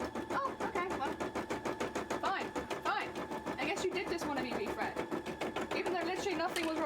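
A sewing machine runs in rapid, steady stitching bursts after being rethreaded, its fast mechanical patter continuing beneath a person talking over it.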